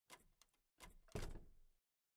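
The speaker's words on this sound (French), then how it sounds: "C'est le chien derrière la porte?" In an indie horror game, a dog thumps behind a door, producing a couple of muffled knocking and rattling bursts before the sound falls silent.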